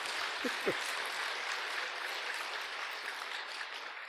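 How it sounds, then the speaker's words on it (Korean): Applause from a congregation at a Sunday Buddhist dharma service, a dense, faint wash of clapping that carries on steadily from a distance, with a brief voice near the start. "박수 쳐봐"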